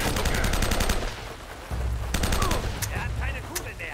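Pump-action shotgun fire in the video game Uncharted: Drake's Fortune Remastered, loud shots in quick repeated bursts over a rumbling battle backdrop, with a few short tonal game effects near the end.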